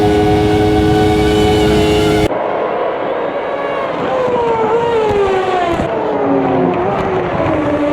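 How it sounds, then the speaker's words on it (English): Racing car engine in a racing video game, Ferraris on track, screaming at high revs and holding at the rev limiter on a straight while drafting, loud and continuous, with a brief sharp tone at the start. "So we are hitting the rev limiter on the straight"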